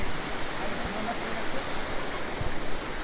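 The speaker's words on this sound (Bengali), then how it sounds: "ঝর্নার জল আসছে" A waterfall near Bindu in the Dooars pours with a steady, loud, broadband rush of water that never lets up, close by and filling the whole moment.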